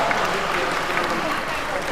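Crowd at a political stage event claps in a sustained, even wash of applause, fairly close and unbroken, with some voices mixed in.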